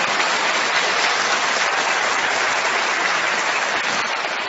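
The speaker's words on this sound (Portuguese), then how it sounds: "Vamos aplaudir um sacerdote. Pode aplaudir com força." An audience claps loudly and steadily for a priest at a Catholic gathering, producing dense, sustained applause that fills the whole stretch without talk.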